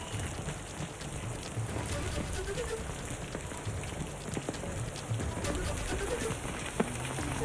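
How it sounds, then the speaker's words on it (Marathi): Heavy monsoon rain pouring down in Mumbai, a dense, steady hiss of drops hitting surfaces nearby with faint scattered knocks and no clear talk. "सध्या मुसळधार पाऊस सुरू झाला आहे"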